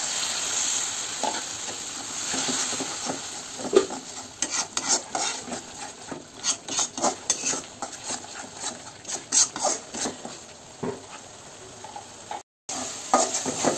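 Spices fried in oil for a duck curry take a splash of water and are stirred, giving a close sizzle with rhythmic scraping and clinks of a spoon against the pan, pulsing in bursts with a brief dropout near the end.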